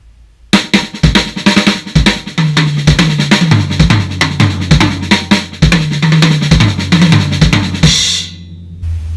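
A drum kit plays a nine-beat triplet phrase built on a right-left-right-left-left-kick sticking, a loud, fast, steady run of close strikes with punchy kick thumps, ending in a ringing cymbal wash.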